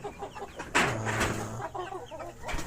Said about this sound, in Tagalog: 5 klaseng heritage chicken ang inaalagaan ng mga ka-idol.